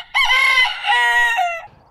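A rooster crows once, loud and close, in a single harmonic-rich cock-a-doodle-doo of about a second and a half that rises, holds and trails off at the end, with nothing else heard around it.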